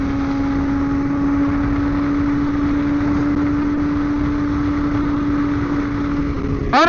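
A BMW S1000RR motorcycle engine heard while cruising, a steady, loud mid-pitched drone with a constant tone, rising into a brief revving whine at the very end.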